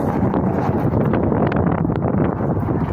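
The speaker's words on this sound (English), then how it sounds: "It's a little windy." Wind gusts buffet the microphone at an outdoor camp in California, a loud continuous roaring rumble with no voices.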